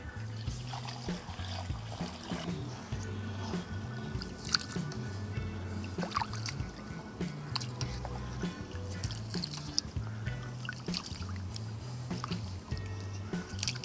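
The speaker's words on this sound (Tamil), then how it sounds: "அரிசி வந்துங்க தண்ணி ஊற்றி கழுவுறோம்." Rice being washed by hand in water while cooking, with sloshing, trickling and squishy splashes alongside steady low background music or hum throughout.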